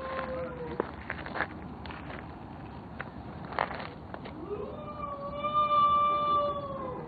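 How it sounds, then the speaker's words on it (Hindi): Dogs howl in long, wavering, rising wails, most clearly toward the end, over a steady noisy background with a few scattered thumps. "यकीन करें ऐसे कुत्ते रोते हैं यार।"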